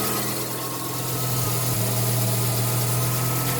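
Steady idle from a Mazda RX-7 FC with a street-ported rotary engine, a close, even low drone that runs without a break and with no voices.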